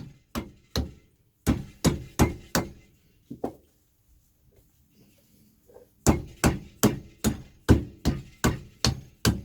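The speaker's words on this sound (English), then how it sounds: "Don't forget to use a trusty rubber hammer." A rubber hammer taps a pump manifold down over its seals during an Interpump W3523 pump rebuild. Sharp, close knocks come in quick, steady runs, pause for a few seconds of quiet, then start again in a longer series.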